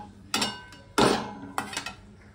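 Mango pickle pieces are stirred with mustard seeds and fenugreek in a metal vessel, giving three distinct clanking scrapes of a spoon against the pot, close and loud with no talking.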